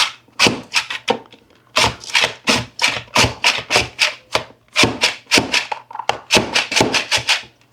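Apples are cut into thin strips with a quick, steady run of rasping strokes, loud and close, in rhythmic bursts with short gaps, and nobody talks.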